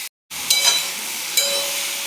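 Bottle gourd sautés in a pan with salt and turmeric. After a brief silence, a soft, steady sizzle hisses on, broken by a couple of light stirring clinks.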